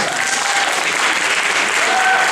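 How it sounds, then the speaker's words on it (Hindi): An audience at a live performance event claps steadily to welcome a performer, a dense, loud and continuous burst of applause from a crowd lasting a couple of seconds. "आप ताली बजाकर भी मेरा स्वागत कर सकते हैं।"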